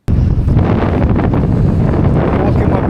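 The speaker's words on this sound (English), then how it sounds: "It's very windy." Strong wind buffets the microphone beside a main road while a cyclist walks a bike through Arctic gusts, producing a loud, continuous low roar that fills the whole stretch with no let-up.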